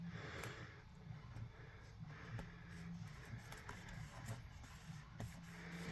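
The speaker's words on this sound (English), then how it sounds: "now my printer's being extra now" A home printer runs during a craft session making an Alice in Wonderland folio, a faint continuous mechanical whir with low rumbling and small clicks, steady throughout with no speech.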